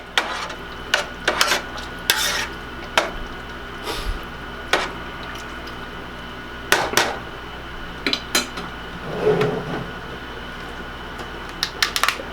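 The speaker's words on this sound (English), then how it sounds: "Give that a little stir in there." A spoon stirs sausage and meatballs in a pot for one-pot tortellini, with repeated irregular clinks and scrapes against the pot close by over a low steady background hum.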